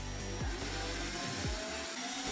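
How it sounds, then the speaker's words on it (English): A drill bores into the head of an ordinary bolt clamped in a vise, giving a continuous loud motor whine with a couple of brief dips in pitch. "start drilling the hole straight."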